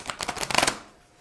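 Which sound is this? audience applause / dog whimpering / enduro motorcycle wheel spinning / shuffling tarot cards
shuffling tarot cards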